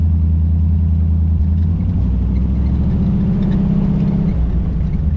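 A 1934 Ford Highboy Roadster with a five-speed floor-shift manual accelerates, its engine giving a loud, steady low rumble that rises gradually in pitch as it pulls, with no talk over it.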